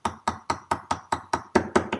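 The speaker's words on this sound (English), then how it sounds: "You can hear the change of sound with the hammer." A hammer lightly taps a piston pin into a racing cylinder piston on a Solex 1400 moped, nine evenly spaced metallic knocks at a steady quick rhythm, close and clear, ringing slightly brighter toward the end.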